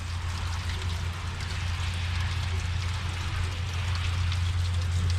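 Rainwater pours steadily into a livestock tank at a house, a continuous hissing splash of water with a low hum beneath, close and even throughout.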